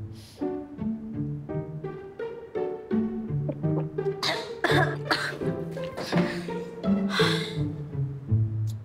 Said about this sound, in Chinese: 你干嘛咳嗽啊？